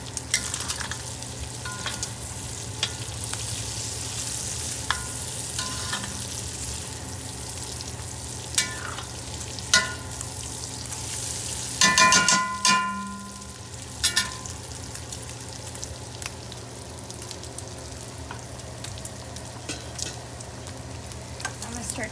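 Green beans frying in a pan, a continuous close sizzle and crackle with scattered pops and occasional scraping clatter around the middle, steady throughout with no talking.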